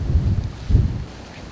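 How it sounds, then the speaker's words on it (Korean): A strong headwind buffets the microphone at a seaside rock fishing spot on Udo, Jeju, in low, rumbling gusts that swell twice and then ease, with no one speaking. "거기다가 강한 맞바람이 불고 있어서 채비 관리도 어려운 상태라 낚시하기 어려워 보인다."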